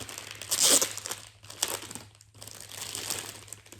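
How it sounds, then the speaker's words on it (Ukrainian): Black plastic garbage bags with ties crinkle and rustle up close, with a loud burst of crackling followed by softer, uneven rustling throughout. "бачиш, це мусорні пакети."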